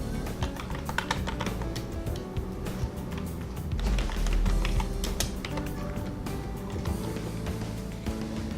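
Someone types a title on a computer keyboard in quick, uneven runs of close key clicks with brief pauses, steady and moderately loud with no voices.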